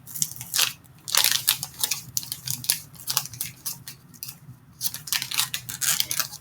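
Scissors cut open a food package while making wontons, a series of crunchy crinkling snips in uneven bursts, close and fairly loud with short pauses between cuts.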